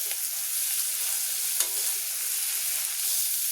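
Fish sizzles steadily in a pan for fish bharta, a bright continuous crackle close up, with a faint stir or scrape partway through.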